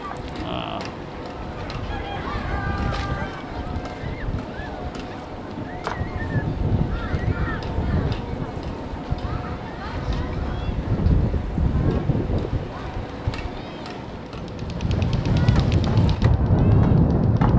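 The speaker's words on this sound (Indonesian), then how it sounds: "Ya itu ada salah satu kapal nelayan yang lewat ya." A fishing boat passes near a bagang kambang fishing platform at Kalibaru harbour in North Jakarta, its low engine rumble swelling under heavy wind buffeting, while voices talk intermittently.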